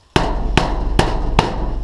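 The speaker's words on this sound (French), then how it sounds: "Si je tape sur la tôle, ça va vite partir." Four sharp metallic strikes on sheet metal in a garage land at an even, steady pace. Each bangs loudly and rings briefly before the next.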